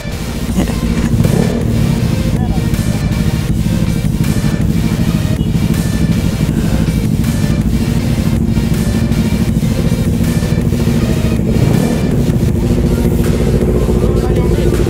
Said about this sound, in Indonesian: Aduh, lupa kalau kita harus starter kaki.